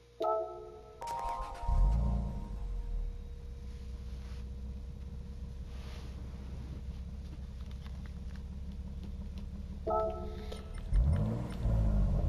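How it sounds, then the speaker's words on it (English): A 1997 Toyota Supra RZ in Gran Turismo 7 cranks and fires up, then settles into a steady low idle rumble for several seconds before a second rev burst near the end. "So I'm going to click on this car, we'll listen to the startup sound"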